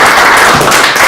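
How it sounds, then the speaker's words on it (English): A magicians' club show audience applauds a volunteer coming up on stage: loud, dense, continuous clapping filling the whole moment, close and steady without pause. "Give him a round of applause."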